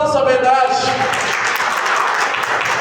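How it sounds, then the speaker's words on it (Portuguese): A congregation at a Catholic preaching event applauds. The clapping builds under a preacher's voice, which is heard at first. "aplauda essa verdade"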